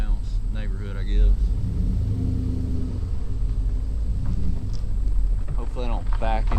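An LS-swapped Chevy S-10 pickup drives slowly around a neighborhood, its engine a steady low rumble with wind noise throughout, and someone talks briefly at the start and the end.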